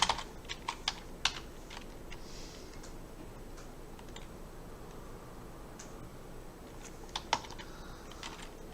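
Text typed on a computer keyboard into the GIMP image editor, with clusters of close, crisp key clicks at the start and again near the end, separated by a quiet stretch of faint room hiss.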